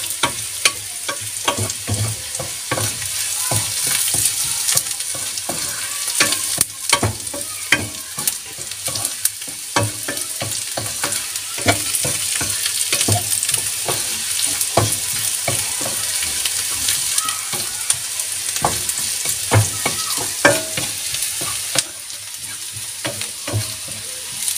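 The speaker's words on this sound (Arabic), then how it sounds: "نعطيوها التحريك باش ما تحرقش لينا البصله" Sliced onions frying in a little oil in a thick pan, with a steady close sizzle and scraping stirs and spatula knocks scattered throughout, no talk.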